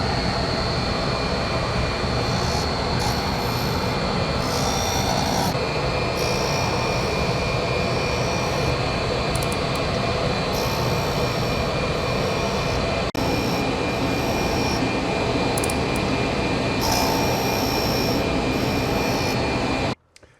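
Loud, continuous machine roar with a high, steady whine as a machine cuts flutes into a reamer and chatters, running unbroken for about twenty seconds before cutting off abruptly.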